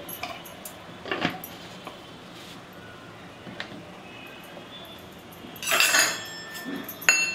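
A metal spoon clinks faintly against a container while cut pieces of beeswax are scooped up, a few light taps with a brighter clatter near the end, over quiet room hiss.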